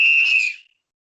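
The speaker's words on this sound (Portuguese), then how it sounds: "Apito final no Boleirando de hoje." A single sharp referee whistle blast signalling the end of a football match, loud and shrill for about half a second before cutting off into silence.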